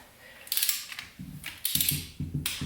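A torque wrench ratchets while head bolts are torqued, giving several short bursts of sharp metallic clicking separated by brief pauses, close and fairly quiet.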